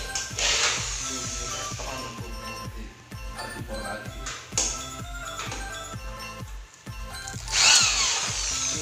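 A power drill drives bolts into a light steel hollow frame for a mini bar kitchen table, with several short whirring bursts, clicks and taps close by, and no talk.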